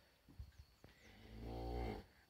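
A cow in a corral at milking time gives a single low, drawn-out moo close by, preceded by a few soft bumps and shuffles.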